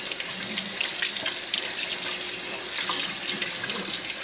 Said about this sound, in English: he's getting ready to have his first bath shower